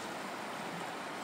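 Rainy Creek flowing under a trail bridge after heavy rains, a steady broadband rush of water that stays even and fairly soft through the brief stretch, with no voices.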